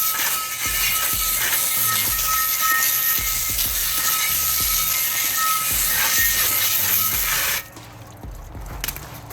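Water rinsing 2000-grit polishing residue off an aluminum Honda Civic EM1 Si wheel, a continuous loud hissing spray with small clatters that cuts off near the end, leaving a quieter background.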